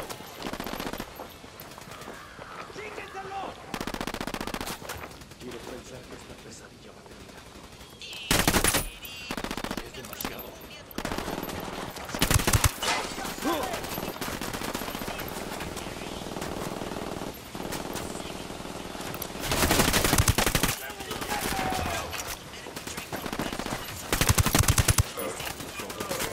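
Gunfire in the tactical shooter video game Ghost Recon Wildlands: repeated loud bursts of automatic weapon fire, with sharp shots and short volleys spread across the clip over a steady game background.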